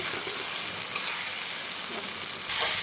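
Butter sizzling and frying in a hot pan, a steady close crackling hiss with a small clink partway and the sizzle swelling near the end.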